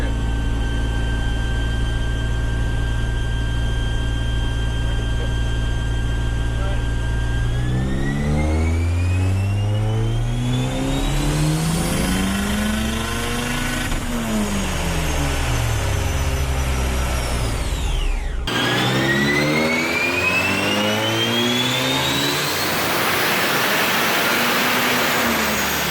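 A car roars through a full-throttle pull on a dyno, its engine note climbing steadily in pitch as it revs through the gears, then cutting sharply and winding down after the pull ends, loud and close.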